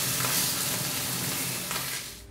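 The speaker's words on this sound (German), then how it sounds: "wir haben die Heringe jetzt hier in der Pfanne" Floured herring fry in a pan with a loud, dense, continuous sizzle close up, steady throughout and tapering slightly at the end.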